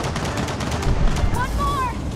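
Gunfire rattles through a Gears of War 4 co-op campaign battle, with rapid shots over a rumbling low-end din and a few whistling tones near the end, loud and close.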